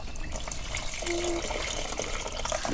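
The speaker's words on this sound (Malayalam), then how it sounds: "നമ്മളിതാ പുളി ഒഴിച്ചു കൊടുക്കുന്നുണ്ട് കേട്ടോ" Tamarind water pours into a curry pot, a steady close gush of liquid that runs without a break through the short stretch and stays fairly loud.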